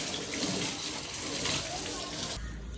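Water gushes from a pipe filling a trough for cows in a Marathi village field, a steady broadband rush throughout that cuts off abruptly near the end.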